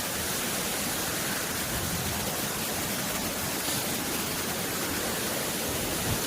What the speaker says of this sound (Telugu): చాలా బాగుంది వాటర్ ఫాల్స్ దగ్గర అయితే.